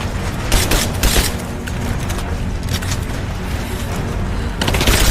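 Heavy gunfire in Rise of the Tomb Raider, loud bursts of shots and booms running continuously throughout with no break in the barrage.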